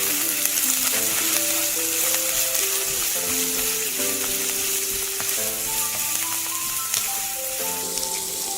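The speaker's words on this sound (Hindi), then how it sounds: "कैरेट, बीन्स डाल के हम सब चला लेते हैं।" Capsicum, carrots and beans are stir-fried for chop suey, a loud, continuous sizzle running steadily under background music.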